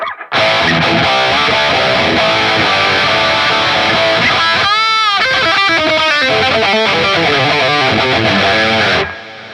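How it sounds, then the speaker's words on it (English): Electric guitar through a Line 6 POD GO Badonk amp model and Simple Delay, notes echoing and trailing behind each other, fairly loud and steady throughout with no talking. "let's put the simple delay on now."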